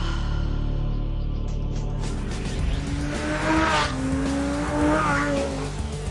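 Lamborghini Gallardo SE with a V10 engine driving hard, a loud, steady engine roar rising in pitch through two clear surges, with tire noise and rushing air and no talking.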